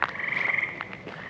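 A chorus of frogs trills steadily at night below an 1800s covered bridge in Northeastern Ohio, with a loud sustained call up front and scattered clicks and croaks after, no voices.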